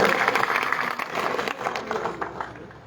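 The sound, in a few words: crowd applause welcoming a politician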